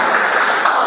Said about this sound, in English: Another round of applause for our timer once again, please.